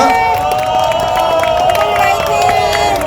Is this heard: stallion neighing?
no